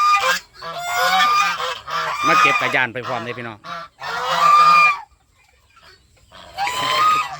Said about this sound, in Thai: อันนี้ก็เรียกห่านจีนนะครับ ห่านจีน มีขาวมีเทาครับผม